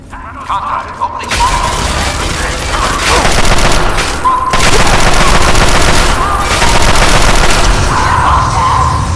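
Loud, sustained gunfire in the video game Fallout, with rapid overlapping shots, bursts and impacts filling the scene continuously after a brief quieter opening, while a voice talks over it.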